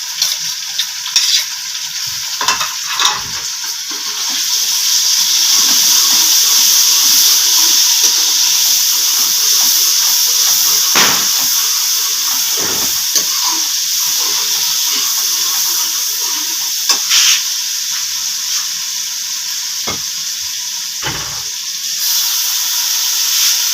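Masala with tomatoes and green chillies fries in a pot for a village-style chicken handi, giving a steady close sizzle and hiss broken by occasional stirring scrapes and clanks, with no talking.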